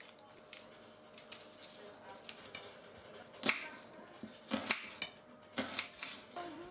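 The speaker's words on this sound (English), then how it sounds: "And then I sliced an onion." Onion sliced with a knife on a board at home, a few soft crisp cuts and taps spread out at moderate loudness, quiet room tone between.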